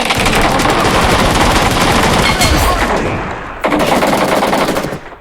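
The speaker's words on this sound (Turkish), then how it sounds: "Nasıl sıkıyor onu silah" Continuous automatic gunfire from a weapon in the mobile shooter PUBG Mobile, loud and dense rapid bursts filling the whole stretch, with a brief dip before firing resumes.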